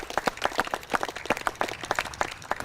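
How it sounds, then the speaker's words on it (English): A crowd of carers and guests at a South Kerry Parkinson's plaque unveiling breaks into steady applause, dense overlapping claps rolling on for a few seconds at moderate volume with no talk over it. "the carers deserve, I think, a great round of applause"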